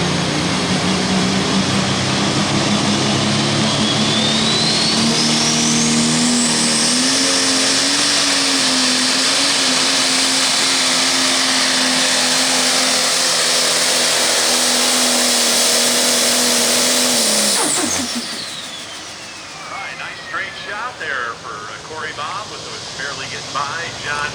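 A 10,000 lb pulling tractor's engine roars steadily for about seventeen seconds at a tractor pull in Hillsboro, Wisconsin, its pitch rising as it strains, then cuts off abruptly, leaving quieter background noise with talk.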